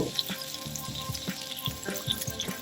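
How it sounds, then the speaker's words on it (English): Potatoes searing in hot oil in a pan, a close steady sizzle broken by scraping and clattering knocks as they are moved around, with no talking. "Let's get some oil in the pan and sear those potatoes"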